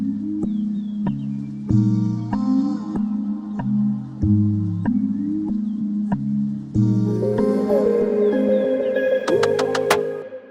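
Electronic music track in Ableton with a halftime effect engaged, giving a slowed, stretched groove of bass tones and synth chords that builds into brighter, busier layers near the end, loud and with no talking.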